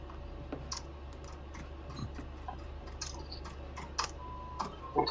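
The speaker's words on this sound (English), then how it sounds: "Okay, you are typing." Keys click in quick uneven bursts on a computer keyboard during a quiet work session, soft taps over a low room hum.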